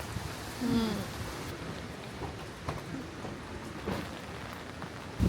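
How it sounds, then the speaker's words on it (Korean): Steady outdoor rainfall patters densely on surfaces, close and continuous, with a few louder drips and a brief low rumble at the start. "비 맞으면서 노천에서 해야 되는데"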